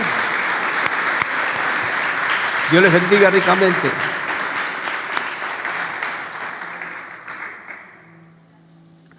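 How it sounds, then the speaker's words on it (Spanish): A church congregation gives sustained, steady applause that fades out near the end, while a preacher's voice speaks briefly over it. "¿Qué le parece si le enviamos un fuerte aplauso a todos ellos?"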